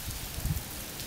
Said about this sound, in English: but we're in some rain and everything